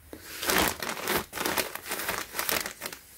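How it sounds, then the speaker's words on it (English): Packaging around an Ann Taylor chiffon blouse is unwrapped up close, with continuous crinkling and rustling of soft plastic or paper in uneven surges. "So today I'm going to unbox this or unwrap this."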